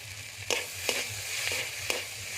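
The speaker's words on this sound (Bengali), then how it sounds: "টমাটোটা আমার ভালো করে ভাজা হয়ে গেছে" Green tomatoes frying in a pan give a steady, close sizzle, broken by four sharp stirring scrapes at roughly even intervals.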